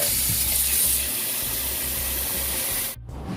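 Cold tap water runs steadily into a sink while raw chicken is washed, a loud continuous hiss with soft splashing, cutting off abruptly near the end.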